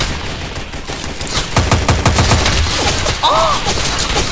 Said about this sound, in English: Look at this machine gun.